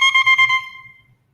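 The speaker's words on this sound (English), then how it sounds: "the two pieces of cane will blow together to make a sound like this" A bare double reed of cane is blown on its own, giving a brief, nasal, buzzing squawk that warbles for about half a second and then fades away.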